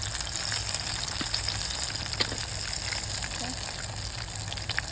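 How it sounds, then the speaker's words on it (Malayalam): Eggplant slices shallow frying in coconut oil with curry leaves give off a continuous, dense sizzling hiss that stays steady and fairly loud throughout. "നമുക്ക് ശാലോ ഫ്രൈ ആണ് ചെയ്യുമ്പോൾ ഓരോന്നോരോന്നായിട്ട് നമുക്ക് ഇട്ട് ശാലോ ഫ്രൈ ചെയ്യാം"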